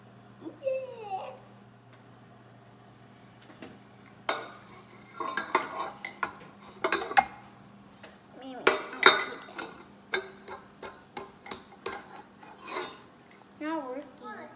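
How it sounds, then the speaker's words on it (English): Sugar and butter being creamed together for oatmeal cookies, heard as intermittent scraping and clinking of a utensil against a bowl, with a voice and other voices in between. "We are gonna cream, sugar, and butter together, starting with 1 cup of butter"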